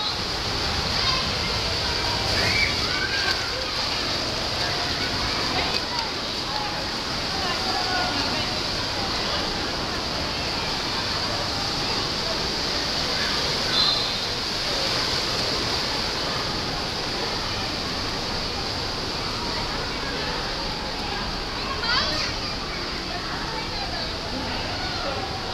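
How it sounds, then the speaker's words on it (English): Steady rushing water fills the ride down the blue water slide at the Hengelhoef swimming pool in Houthalen, Belgium, a constant broadband wash with faint, distant voices in the background. "Let's do the blue water slide too."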